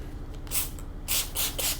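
Several quick bursts of a trigger spray bottle misting soap solution onto houseplant leaves, close and fairly soft, with a steady low hum underneath.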